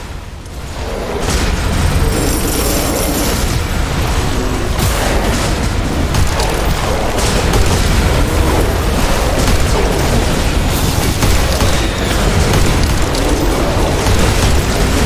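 Continuous loud destruction in The Riftbreaker video game, buildings blowing apart in a dense wall of booming blasts and crackling rumble that runs steadily for the whole stretch with no pauses.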